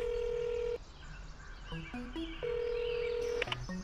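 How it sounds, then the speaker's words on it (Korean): Telephone keypad tones beep in a rapid series of short, distinct pitched presses, with a long steady tone before and after, clear and close with no talking. "그 변호사 친구에게 바로 전화를 걸었어요"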